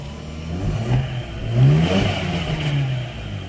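A Mazda RX8 rotary engine with a failing clutch throw-out bearing revs up and settles back down over a few seconds, a loud, close rise and fall with a faint clattering underneath.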